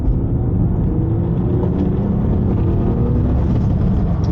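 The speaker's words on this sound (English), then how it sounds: "Let's get a little second gear pull here." A manual BMW E36 328i pulls in second gear with a loud, continuous engine drone heard from inside the car, its pitch rising slightly as it accelerates.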